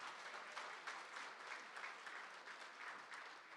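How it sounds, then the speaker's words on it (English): An audience at a Girmit Remembrance Day event applauds a Bidesiya folk song performance, a steady, distant patter of many hands clapping throughout. "a huge round of applause for Ramdai Khelawan for such a beautiful Bidesiya."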